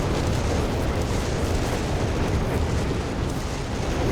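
Whiz-bang rocket shots land and explode in a Company of Heroes 3 battle on Monte Cavo, a loud, continuous wash of booms and blasts rolling together without pause.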